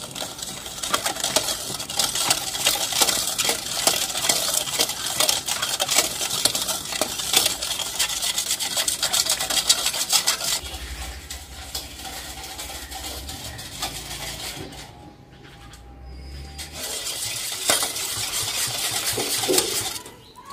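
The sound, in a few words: stirring milk, sugar and soybean oil together in a bowl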